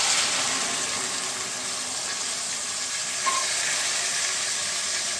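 A paste of ground onion, tomato and green chili sizzles in a hot pan of tempered spices for chicken channa masala, a steady close hiss like running water that holds evenly throughout.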